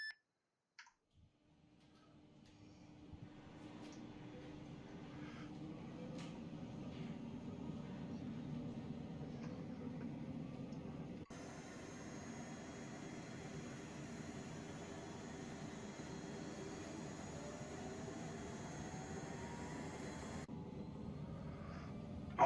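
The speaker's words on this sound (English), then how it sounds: "this is Warlord signing on 7-5, spooling up at Mike 3 helicopter parking" Helicopter engine in the video game ArmA III spooling up at a parking spot, starting with a click and then settling into a steady, faint whining drone with a rising tone.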